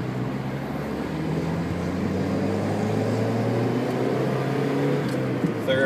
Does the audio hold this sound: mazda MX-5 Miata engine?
yes